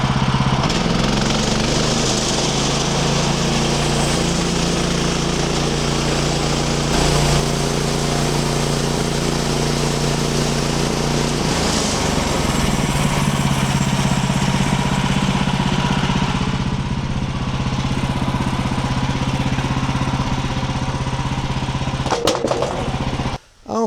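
A portable sawmill runs steadily as its blade cuts an ash log into lap siding, giving a loud, continuous engine drone with a shifting saw whine that drops off sharply near the end.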